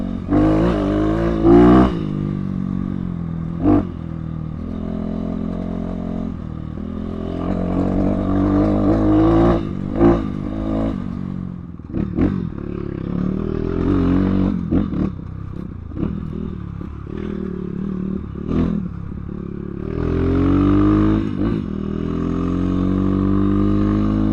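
A Kayo K6-EFI 250cc four-stroke dirt bike being ridden: a loud, close engine revving up and down through gear changes, with rattles and clatter from the bike on rough ground and short pauses between pulls.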